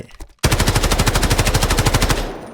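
A CI 19 rifle in the video game Delta Force fires one rapid, sustained burst of roughly two dozen evenly spaced, loud shots lasting about two seconds, after a short quiet lead-in.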